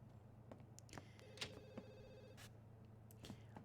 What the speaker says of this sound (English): We also need to answer our phone.